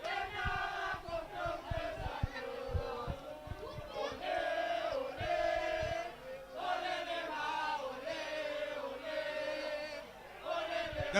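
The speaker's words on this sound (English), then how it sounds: "The crowd roars" A rugby crowd at a Progress RFC versus Young Good Hope club match roars after a kick, with a loud, swelling mass of cheering and shouting voices that rises and falls in waves and stays sustained throughout.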